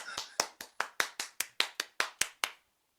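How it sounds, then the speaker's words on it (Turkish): About a dozen sharp, evenly spaced hand claps ring out close by, loud and crisp, each decaying quickly before stopping into silence, given as applause for a craftsman while fitting a rooftop tent to a Nissan Micra. "Evet Ömer Usta'ya bir alkış."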